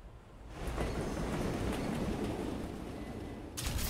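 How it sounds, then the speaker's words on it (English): A train running in the video game Wolfenstein: The New Order, giving a steady loud rumble with rail clatter that keeps on throughout, with no talking. "Locate the train and drive it to the abandoned underground train station north of there."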